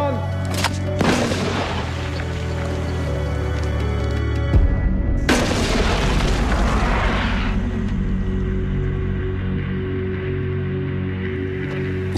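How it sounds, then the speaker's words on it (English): A mortar fires a grapnel and rope up a cliff face similar to Pointe du Hoc: two sharp booms, the second followed by a long rushing whoosh that fades, over steady background noise. "this one fires the grapnel and rope over 150 feet up the cliffs."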